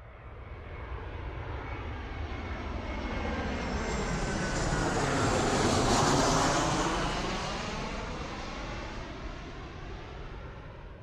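An airplane engine roars past, swelling from a distant rumble to a loud, broad drone at its nearest point with a gliding Doppler shift, then receding, with no voices.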